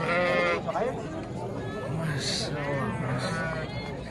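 Sheep and lambs bleat repeatedly at a busy livestock market, close and overlapping, with people chattering and calling out across the whole stretch.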